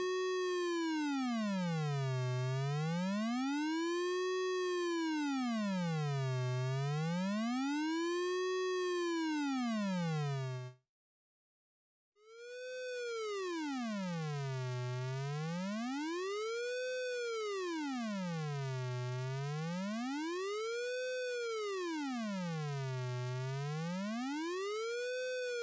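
SoloRack S304 synthesizer oscillator under frequency modulation, a steady buzzy tone rich in harmonics whose pitch sweeps smoothly up and down in a slow, regular siren-like cycle, briefly cutting out midway before resuming.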